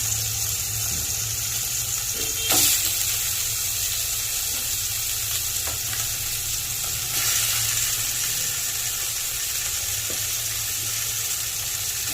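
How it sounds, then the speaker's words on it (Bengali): Fish fries in a pan with a continuous, moderate sizzle. A low hum and a few clinks and bumps sit under it, and no one speaks. "একদিকে মাছ ভাজা চাপিয়েছি একদিকে ভাত চাপিয়েছি"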